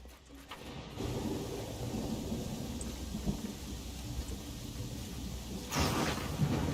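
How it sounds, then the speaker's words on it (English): Thunderstorm in the Pathfinder: Kingmaker video game, with a steady wash of rain and low rumbling thunder that swells with a louder roll near the end. "Let's find shelter from this thunderstorm."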